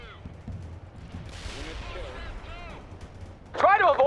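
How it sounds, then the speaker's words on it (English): Bursts of gunfire from the World in Conflict war game crackle under a steady battle din, with a louder cluster of shots near the end, while radio-style voices talk over the action. "They're firing at us. We're under attack."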